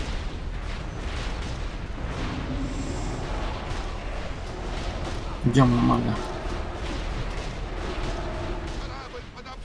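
Ship cannons firing during a naval battle in a video game: a single heavy boom lands midway, over a steady rumble of gunfire, while players talk over voice chat throughout.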